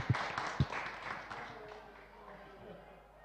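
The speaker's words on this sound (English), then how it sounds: "big round of applause for our top three again for us, please" An audience applauds the top three finishers at a stock car race event, scattered claps that fade under steady talking.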